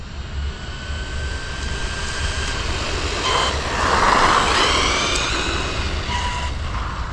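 ARRMA Kraton mini RC car at full throttle on a 2200 battery, a steady high-pitched electric motor whine with loud broadband rushing noise that swells toward the middle of the run.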